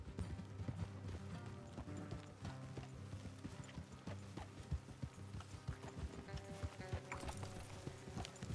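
Horses trot along a road in the game Red Dead Redemption 2, a steady rhythmic clip-clop of several hooves, fairly quiet under a low musical score and ambient game sound.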